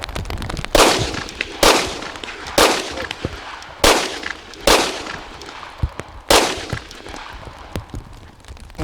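A Wilson Combat pistol fires six loud, close shots at a carry training range in Fowlerville, Michigan, spaced about a second apart. Each report cracks sharply and rings briefly, and quieter clicks and handling noises follow the string.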